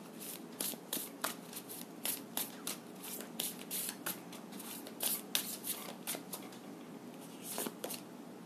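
Tarot cards are shuffled and drawn by hand in repeated crisp riffling bursts and flicks at an uneven rhythm, close and fairly quiet, with no talking.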